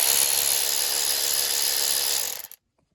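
A cordless electric ratchet bought from AliExpress whirs steadily with a dense mechanical buzz for over two seconds, then winds down and stops, leaving near silence.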